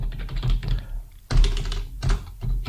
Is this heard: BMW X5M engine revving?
no